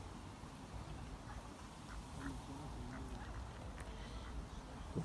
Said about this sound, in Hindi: यहाँ भी ये बतखें ऐसे ही इधर पानी में छोड़ी हैं